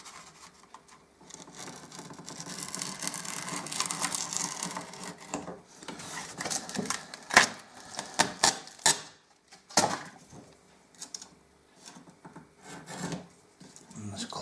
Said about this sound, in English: And again, cut the excess off.